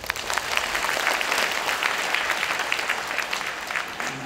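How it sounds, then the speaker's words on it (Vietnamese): A church audience at a 2017 Divine Mercy celebration breaks into dense, continuous applause, a full roar of many hands that holds steady for several seconds. "một tràng pháo tay cảm ơn."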